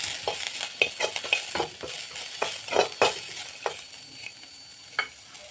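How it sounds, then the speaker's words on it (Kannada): Onion and garlic frying in a pan, a soft sizzle broken by repeated scraping stir strokes at an uneven rhythm. "ಫ್ರೈ ಮಾಡ್ಕೊಳ್ಳೋಣ ಈರುಳ್ಳಿನ. ಬೆಳ್ಳುಳ್ಳಿನ ಹಾಕ್ಕೊತಾ ಇದ್ದೀನಿ."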